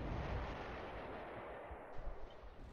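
Artillery fire in the WWII strategy game Close Combat 3 on the Russian Front, heard as a steady dense rumble of distant shelling with a few sharper blasts near the end.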